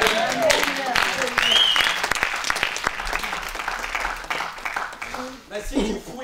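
Church congregation applauding during a sermon, a sustained wash of clapping with cheering voices and a preacher's speech over it, continuing throughout.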